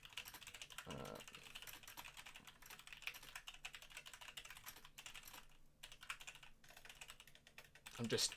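Typing on a computer keyboard produces a continuous, fairly quiet patter of key clicks in irregular bursts, with a brief louder clatter at the very end.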